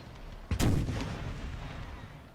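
A single heavy artillery blast from a cannon in an American Civil War video game booms once and then rumbles off into a long, fading roll, with no voices.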